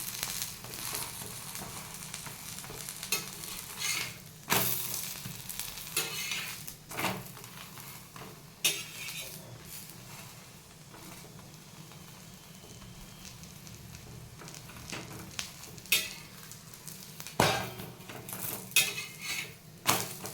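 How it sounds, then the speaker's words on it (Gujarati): A sweet corn paratha roasts in oil on a pan, a soft steady sizzle under repeated sharp clinks and scrapes of a utensil against the cookware. "હવે અહીંયા તેલ એડ કરી દેવાનું અને બંને સાઈડથી બરાબર શેકી લેવાનું."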